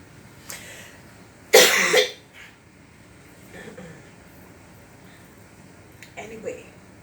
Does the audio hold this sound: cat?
no